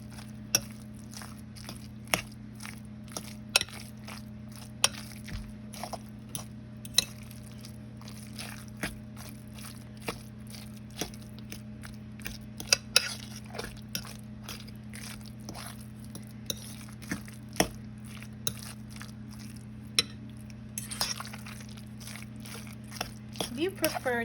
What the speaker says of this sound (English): I'm going to break up that ground beef and then I'm going to mix in all of my other